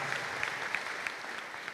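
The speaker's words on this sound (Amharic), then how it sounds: "አጨብጭቡ ለጌታ" A church congregation claps together in a brief burst of dense, even applause with sharp individual hand slaps standing out across the room.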